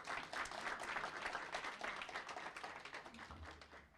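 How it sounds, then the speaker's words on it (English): An audience claps steadily for a senator at a public service celebration, a dense sustained round of applause from a crowd, fairly distant and even throughout. "another round of applause for the senator."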